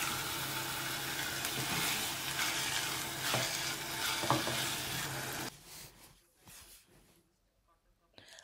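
Beef mince with a quarter cup of water being stirred in a pan for Goan kheema rice, a steady sizzling scrape for several seconds before the stirring stops and the sizzle fades to faint, sparse sounds.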